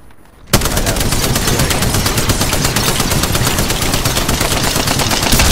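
Rapid automatic gunfire in a video game battle royale match, a loud sustained burst of tightly spaced shots that starts abruptly after a brief quiet moment and continues without pause to the end.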